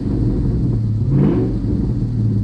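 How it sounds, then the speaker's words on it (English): A warmed-up 2024 Ford Mustang Dark Horse engine revs to about 3,000 rpm over a steady low rumble of idle, the throttle blip swelling briefly near the middle before settling back down. "we have a little bit of noise from the engine bay, but we'll give it a couple revs"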